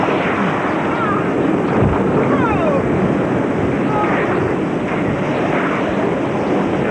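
Typhoon Omar's eye wall winds roaring ashore on Guam, a loud, steady broadband rush of wind and rain that never lets up, with occasional gusting surges over the constant roar.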